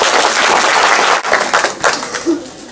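Audience applause in a hall after a speech on privatisation, a dense steady clatter of many hands that thins out and fades toward the end.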